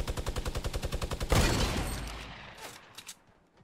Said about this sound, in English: Someone sniping. I sniped him.